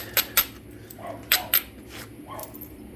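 A dog moving around indoors whimpers softly a couple of times, set among several sharp, bright taps and clicks nearby.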